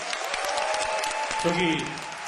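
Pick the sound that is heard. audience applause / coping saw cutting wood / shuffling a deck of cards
audience applause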